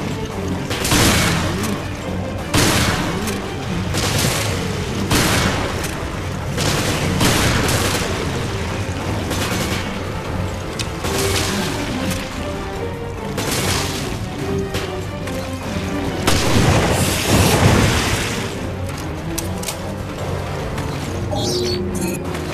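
Loud gunfire in Resident Evil: Revelations comes in repeated bursts of sharp shots and booms, with crashes and impacts mixed in, continuing over about twenty seconds.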